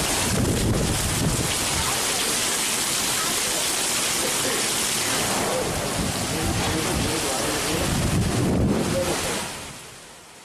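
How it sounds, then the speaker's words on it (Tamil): Heavy monsoon rain pours down in a steady, loud roar with wind buffeting the microphone, easing off near the end. No distinct thunder stands out. "சுமார் 2 மணி நேரமாக மழை வெளுத்து வாங்கியது"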